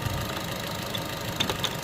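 A car engine idles steadily during a coolant flush cycle, a low continuous rumble with a few faint ticks on top, close by and without talk.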